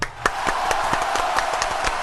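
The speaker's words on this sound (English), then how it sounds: "can we just get a round of applause for the brave choice?" A round of applause called for during a Matrix film review: steady, fairly close clapping from a small group with individual hand claps popping out over a continuous bright patter.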